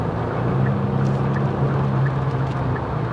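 A Kia Stinger 3.3 sports sedan's engine, heard from inside the cabin with its active engine sound, drones in a steady, loud low hum while driving, with no speech over it.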